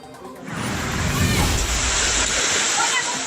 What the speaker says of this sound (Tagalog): Malailog ang bakuran ng bahay na yan sa Matanaw, Davao del Sur nang rumagasa ang baha dulot ng malakas na pag-ulan.